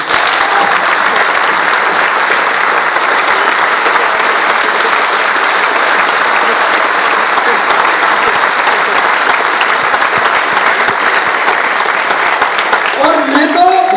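An audience claps at a speech in a large open ground, dense sustained applause holding at full strength for the whole span, with a voice rising faintly near the end.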